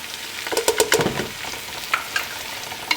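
Curry leaves, lemongrass and tamarind sauteing with onions for a pork curry, giving a steady close sizzle with a cluster of stirring scrapes early on and a few lighter clinks later, no voices.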